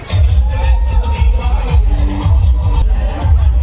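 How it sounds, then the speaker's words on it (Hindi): A dense, loud crowd at an outdoor Holi festival event, with steady babble of many voices, shouts and bustle, plus heavy low rumble throughout. "काबर की बहुत ज्यादा भीड़ बने हुए हैं यहाँ पे"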